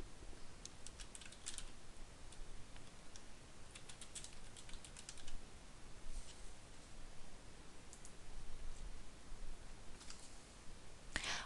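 Fingers type on a computer keyboard while entering an axis title in a graphing program. Soft, quick key clicks come in irregular runs with short pauses, faint and close, with no voices.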